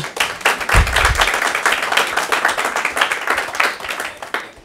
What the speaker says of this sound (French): Amélie et Lola, vous pouvez applaudir tout de suite